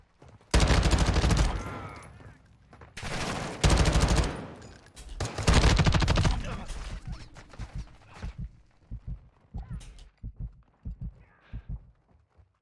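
An LMG machine gun firing in Call of Duty MWII, three long, loud sustained bursts separated by short gaps, then quieter scattered single shots and impacts fading out.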